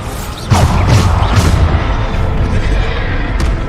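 A Bombarda blasting-spell explosion in Hogwarts Legacy, a sudden loud close boom after a short lead-in, followed by a long rumbling, crashing tail of debris.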